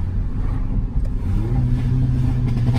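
Exhaust pops and crackles burst from a tuned car fitted with a crackle map as the engine revs hard, a loud, close, continuous engine roar with sharp pops breaking through.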